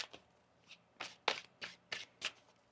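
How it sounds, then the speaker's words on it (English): Tarot cards are shuffled in a quick series of crisp riffling bursts, about seven in a row, close up with no talking. "One more shuffle here."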